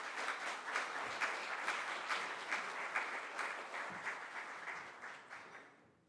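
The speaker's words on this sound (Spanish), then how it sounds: "Con un aplauso lo recibimos," Audience applause at a public presentation of the 2024 IPER results, given as a regional official from Biobío is welcomed. The clapping is steady and dense for about five seconds, then fades away near the end.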